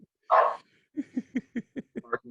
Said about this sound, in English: Barking at birds or something.